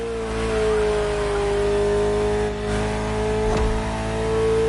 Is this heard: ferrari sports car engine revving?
yes